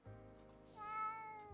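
A cat in the visual novel game Bustafellows gives a single drawn-out meow lasting over a second, rising and bright in the middle, clear and close, heard alone without talk.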